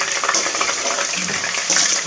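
Onions frying in very hot oil, a dense close hiss and crackle of sizzling that runs steadily through the short moment.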